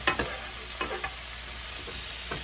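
A steak fries in melting butter in a pan, giving a steady close sizzle throughout. A few soft spoon or pan scrapes break through now and then.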